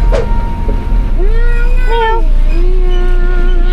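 A kitten gives a couple of short, close meows over steady background noise, with a voice speaking at the start.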